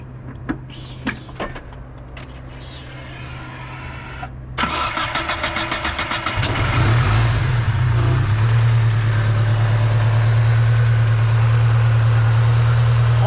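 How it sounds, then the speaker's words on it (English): A fully forged Mazda Miata engine cranks and fires into life partway through, then settles into a loud, steady close-up idle after quieter background noises. "You wanna hold this, James, while I go start the vehicle?"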